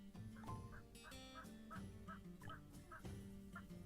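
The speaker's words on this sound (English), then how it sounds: "Turkeys, there we go." Turkeys in the village-building game Settlement Survival give repeated gobbling calls at an even rhythm over steady background music.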